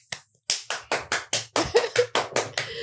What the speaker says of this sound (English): So I need to insert some claps into this thing.